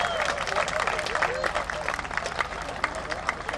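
Crowd of charity hikers on the Jurassic Coast clapping and cheering, a steady dense wash of applause with scattered sharper claps and some voices mixed in throughout.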